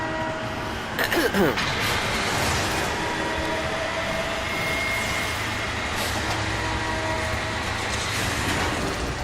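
A tram in the video game Warframe rumbles and clatters continuously along its track, with a steady mechanical drone and occasional squeals.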